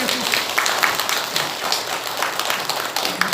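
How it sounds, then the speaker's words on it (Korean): A church congregation at a Sunday service claps briskly and continuously, loud and close, with a few sharper individual claps standing out. "박수 하겠습니다."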